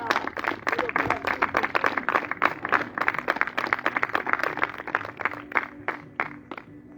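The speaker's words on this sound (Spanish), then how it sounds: "Dale un aplauso fuerte al Señor" A church congregation at an evangelical service claps loudly and rapidly for several seconds, a dense run of sharp handclaps with a few voices mixed in before it thins out at the end.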